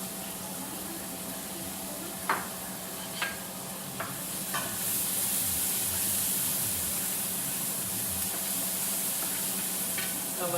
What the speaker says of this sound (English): We got some chopped white onion. I'm going to give that a little saute.